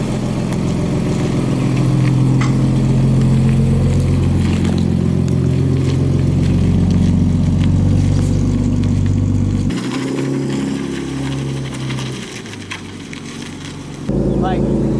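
A lowered Scion FR-S engine hums and revs as the car is driven out, a loud, close, rumbling idle with light throttle that drops off sharply partway through, then returns.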